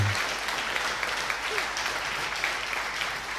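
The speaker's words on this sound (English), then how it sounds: "they will deserve a round of applause" Conference audience in a hall breaks into a round of applause, a steady wash of many hands clapping at moderate distance that holds evenly throughout, with no voices standing out.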